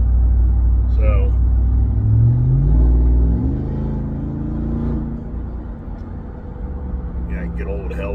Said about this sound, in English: good old Hellcat motor, huh? Good old Mopar noise.